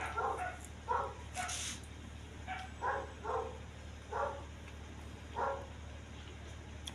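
A dog barks in short bursts of two or three yaps, repeating about every second, moderately distant over a steady low hum and background murmur.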